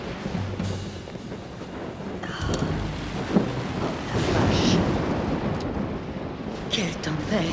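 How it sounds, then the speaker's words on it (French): Stormy weather with steady heavy rain and rolling thunder, a loud sharp crack midway, continuous and close throughout. "Quelle tempête!"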